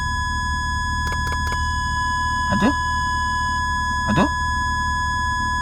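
A steady 1 kHz test tone plays through the upgraded speakers of a Kancil car, holding an unbroken pitch throughout while a voice briefly speaks over it.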